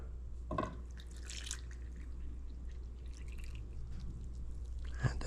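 Regular milk, about a cup and a quarter, poured into a well in pancake batter, a soft liquid splash near the start and again near the end over a steady low kitchen hum.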